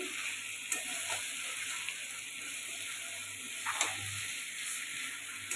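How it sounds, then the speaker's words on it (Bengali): Chicken curry with potatoes sautéing in oil in a pan: a steady, dense frying hiss runs throughout with a few faint stirring scrapes, close and fairly quiet, with no voices. "খুব সুন্দর করে কষিয়ে নিয়েছি, তেল ছেড়ে দিয়েছে"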